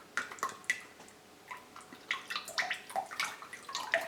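Juice drains from canned peaches in bursts of wet dripping and splashing, close and moderately quiet, with gaps between the pours.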